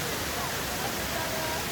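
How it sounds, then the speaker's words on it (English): Kuang Si waterfall near Luang Prabang pours in a steady, loud broadband roar that fills the whole stretch without a break, with no voices standing out above the rushing water. "Beautiful waterfall here."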